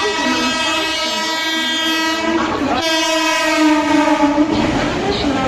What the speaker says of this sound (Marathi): प्लॅटफॉर्म क्रमांक 5 वर आलेली लोकल 8 वाजून 29 मिनिटांची छत्रपती शिवाजी महाराज टर्मिनसला जाणारी जलद लोकल आहे